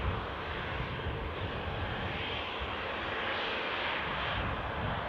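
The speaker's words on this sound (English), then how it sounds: "departing flight for Krakow" Ryanair airliner departing Newcastle airport on a flight to Krakow, its engines giving a steady, fairly loud broadband roar that holds constant throughout, with no talk.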